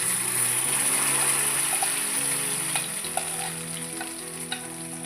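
Thickened milk cooks with ghee in a pan for milk peda, a close steady sizzle and bubbling with occasional stirring scrapes, gradually softening, no talking.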